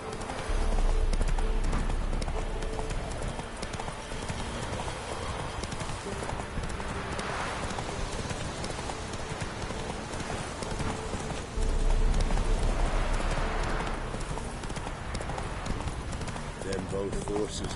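Horse hooves clip-clop at a steady galloping rhythm through The Witcher 3: Wild Hunt, loud and close, with two louder bursts where the pace picks up. A voice talks over the hoofbeats, and a horse briefly whinnies.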